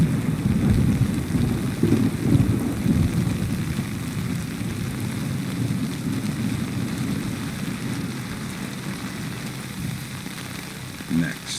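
Heavy steady rain pours down in the stealth game Splinter Cell Chaos Theory at a lighthouse level, a dense continuous hiss with low rumbling beneath it, and faint voices mixed in.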